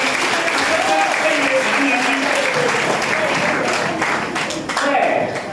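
A church congregation applauds to acclaim the Lord with dense, sustained clapping from a large crowd. Voices call out and talk over it, and it swells slightly near the end.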